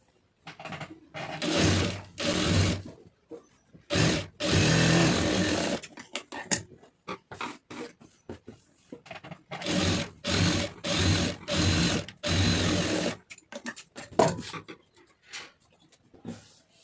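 A sewing machine stitches a blouse lining in a run of short and longer bursts, starting and stopping repeatedly with brief quiet gaps between, close by and fairly loud.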